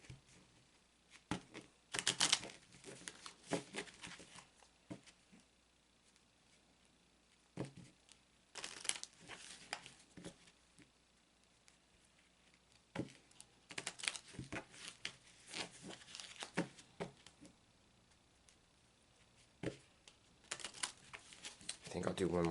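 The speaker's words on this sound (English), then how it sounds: "I'm shuffling that into the cards." Soft papery riffles and shuffles of an oracle card deck come in scattered bursts, fairly quiet, with gaps of near silence between them.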